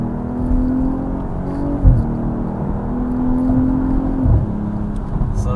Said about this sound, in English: So yeah, so you hear some of the burbles right there.